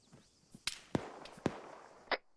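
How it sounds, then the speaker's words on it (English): Incoming gunfire during an air assault training exercise, a few sharp distant cracks spaced irregularly, fairly faint. "Receiving fire direct northwest."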